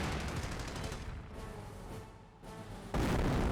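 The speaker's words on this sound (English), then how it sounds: "Incendiary mortar there, though." An incendiary mortar barrage in Company of Heroes, with repeated muffled thumps and bursts over a rumbling battlefield bed, dipping quieter midway before a louder impact near the end.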